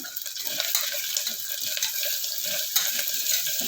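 Four whole, uncut green chilies frying in a pan for plain kushka, a steady bright sizzle with soft stirring scrapes underneath, close and continuous, with no one talking.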